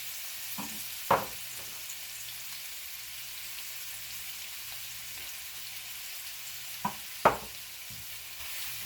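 Hamburger meat browning in a pan, a soft steady sizzle with a few brief scraping or stirring knocks and no talk.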